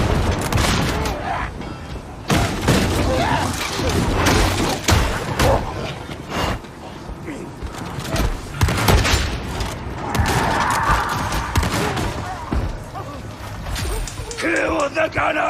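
Game combat from Warhammer 40,000: Darktide, with a grenade explosion among dense gunfire, booms and crashes throughout, and voices calling out over the action.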